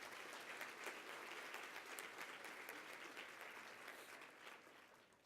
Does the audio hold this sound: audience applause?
yes